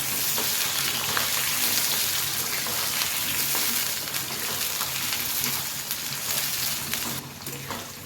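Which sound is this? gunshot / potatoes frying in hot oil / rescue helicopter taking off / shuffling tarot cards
potatoes frying in hot oil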